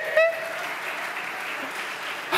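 Congregation at a church service claps briefly in a short, steady patch of applause, fairly even in loudness and lasting only a couple of seconds.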